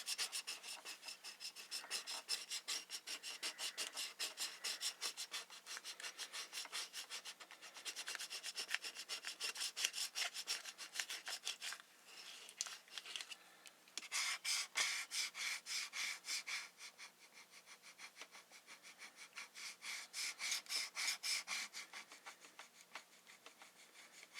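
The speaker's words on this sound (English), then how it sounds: "I'm going to put transfer paper over this. And I'm going to rub it down. You need to burnish it down." Cricut scraper burnishing transfer paper down over vinyl, a steady close scraping and rubbing that runs in quick back-and-forth strokes with short pauses, heard alone without talk.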